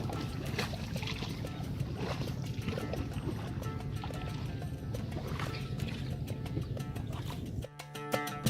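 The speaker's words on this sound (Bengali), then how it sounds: "সরু এই খালে ভাসতে ভাসতে নৌকা আগাতে থাকে জলাবনের দিকে।" A small wooden boat glides along a narrow canal toward a swamp forest in Sylhet, with soft, quiet water sloshing and lapping around the hull.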